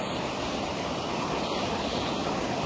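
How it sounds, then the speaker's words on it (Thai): Steady rushing of flowing water, a continuous even wash of noise with no pauses and no voices. "ฟังแต่เสียงน้ำไหลพี่น้องช่วงนี"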